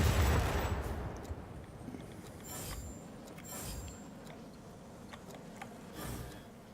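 Bursts of gunfire from an F7U Cutlass fighter plane in a flight combat video game, a loud initial blast followed by several shorter, fainter volleys spaced out over steady engine drone.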